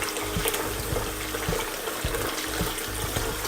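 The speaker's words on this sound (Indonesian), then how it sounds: "Jadi airnya cukup banyak seperti ini, kita remas-remas." Hands knead and rub soybeans in plenty of water to wash off the skins, producing close, steady sloshing and splashing with repeated squelching pulses and no voices.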